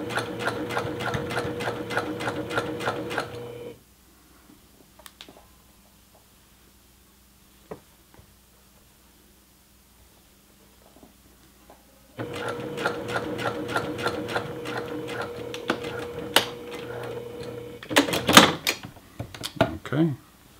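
Sewing machine stitching a 1/4 inch seam on a men's T-shirt neckband, heard as fast, steady close-up stitching in two long runs separated by a quiet pause, ending with a few clunks.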